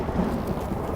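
A brief burst of storm thunder, a loud low rumble blended with rain noise, lasting about a second with no voices.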